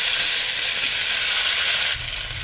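Chopped tomatoes hit hot oil and fry with a loud, dense, continuous sizzle close by, dropping slightly in intensity near the end.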